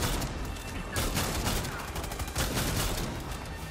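A powerful pump-action shotgun fires in Far Cry 6 combat: a few heavy, loud booming blasts spaced about a second apart over constant dense game noise.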